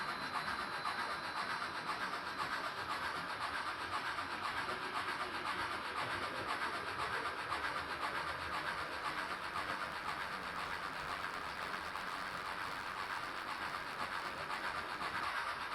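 Missabe Northern Railway inspection train rolling off the ore dock and down toward Duluth: a steady, unbroken rolling rumble with faint rubbing and wheel noise that holds at an even level throughout.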